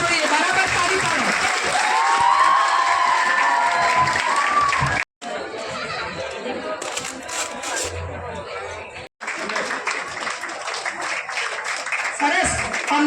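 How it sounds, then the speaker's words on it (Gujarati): Audience clapping fills a hall at a women's cooking show contest, a steady broadband wash of applause with crowd murmur, briefly cut twice, while a voice speaks over it. "તાળીઓથી એમને બતાવો ફરીવાર. આખો હોલ ગુંજવો જોઈએ."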